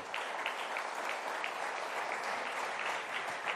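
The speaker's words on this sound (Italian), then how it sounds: "vi prego di accoglierla con un applauso." Sustained audience applause at an Italian conference on innovation in the tertiary sector, a dense, even patter of many clapping hands lasting throughout with no pauses.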